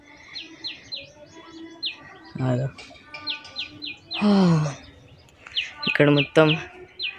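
Birds chirping in a forest near a hilltop temple, repeated high clear tweets in short runs close by, with people talking over them in places.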